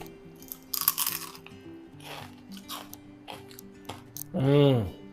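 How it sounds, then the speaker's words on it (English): Crisp crunching bites into crispy fried wontons, a few loud crackly snaps with chewing between, followed by a short appreciative vocal sound. "Let me show you the crunch."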